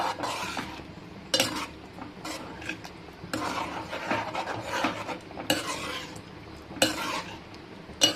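A thick colocasia (taro) tamarind curry being stirred in a pan, with repeated scraping and knocking of a spoon against the metal in irregular bursts over a low simmering sizzle.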